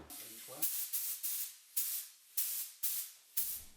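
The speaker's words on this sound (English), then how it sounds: "I used my spray gun just to make sure that it would regulate and you could get enough airflow for it to work properly" Air from a pneumatic spray gun on a workshop compressed-air system comes in six sharp, loud hissing blasts, each cut off abruptly, with short muffled sounds between the first bursts.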